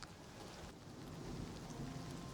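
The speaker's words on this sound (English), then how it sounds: "it's still raining" Steady rain falls around Weynon Priory in the video game Oblivion Remastered, a soft continuous hiss of drops at low level with no one speaking.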